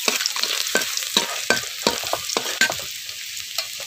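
Chopped garlic and ginger dropped into hot oil for tempering, a loud close sizzle punctuated by a regular series of sharp clinks and scrapes from a stirring utensil, no speech.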